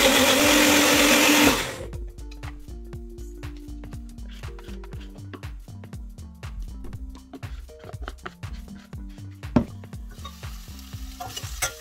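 An electric grinder whirs loudly for under two seconds as it blends one green chili and four or five garlic cloves into a fine paste for a raw banana sabji, then cuts off, leaving quieter kitchen sounds.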